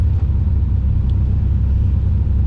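A Triumph sports car cruises down the road with a Detroit club outing, a steady loud low engine and road rumble heard from inside, with no break in the drone.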